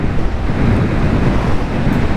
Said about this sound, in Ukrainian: Вітер який сильний.